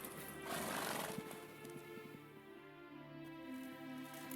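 Roach, Geralt's horse in The Witcher 3 video game, gives a loud whinny near the start, followed by clopping hooves and game ambience.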